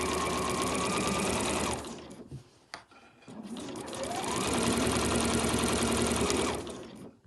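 A sewing machine stitches the panel of an overlocker cover in two sustained runs, close and clear, with a brief pause in the middle.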